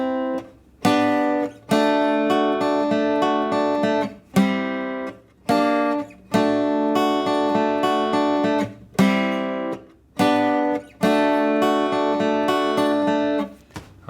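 Several chords on guitar are strummed then arpeggiated in turn, each left to sustain, repeating in a steady pattern with short breaks between.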